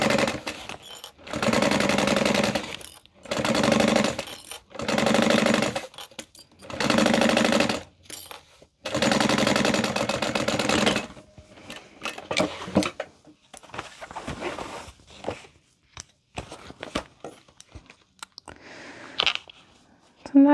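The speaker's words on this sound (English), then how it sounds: "I'm gonna top stitch this side" A sewing machine top stitches a handbag in five steady, loud bursts of rapid needle chatter separated by short pauses, followed by scattered clicks and handling noises.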